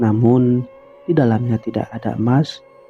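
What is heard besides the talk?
No everyday noise stands out behind the speech.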